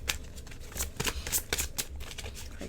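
An oracle card deck being shuffled close up, crisp riffling and sliding card bursts repeating in an irregular rhythm with no talking.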